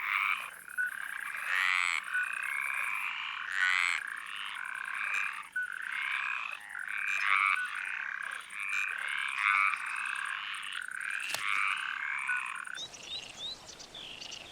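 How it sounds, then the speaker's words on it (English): Mediterranean tree frogs by Spain's Guadalquivir river croak in dense, rapid bursts, a loud repeating chorus of rasping calls close by, ending in a brief noisy rustle. "Mediterranean tree frogs were born to sing."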